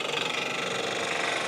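A wood lathe spins a knockout bar at speed, giving a steady close motor hum with a faint rhythmic wobble as the piece turns slightly out of true.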